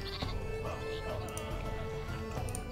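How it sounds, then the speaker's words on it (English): Sheep bleat in the strategy game Northgard, a few short game bleats over a dense layer of in-game music and sound effects. "Slaughter a sheep."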